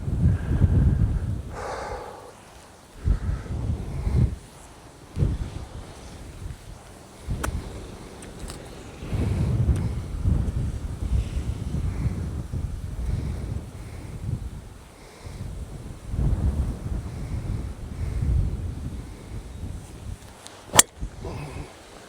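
Strong wind of about 20 miles per hour sweeps across an open golf course, buffeting the microphone in loud, irregular low roaring gusts that rise and fall, with a couple of sharp clicks near the end and no talking.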